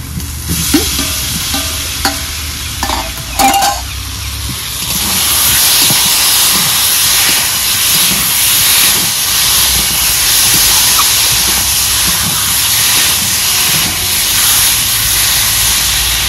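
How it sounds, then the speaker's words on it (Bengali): Potatoes stirred into a frying shol fish curry, a loud, steady sizzle and hiss of hot oil and spices with a few scraping stirs early on, then continuous frying. "এবার আলু দিয়ে একটু নাড়াচাড়া করে নেব।"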